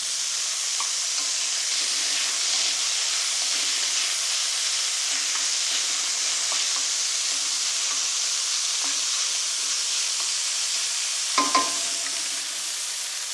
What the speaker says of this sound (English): We don't want to cook this meat all the way.